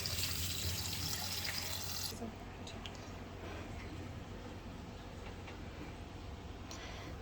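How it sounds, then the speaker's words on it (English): Tap water runs hard in a country kitchen while shrimp are washed. After about two seconds the flow cuts back to a softer trickle with light drips and ticks. "So after I have washed and drained the shrimps"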